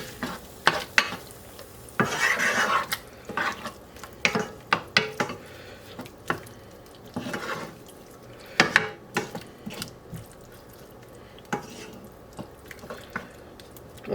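A spoon stirs thick strained tomato sauce in a pot in a run of wet scraping strokes, with short bursts of stirring between quieter pauses and a faint simmer underneath; close and fairly soft, no talking.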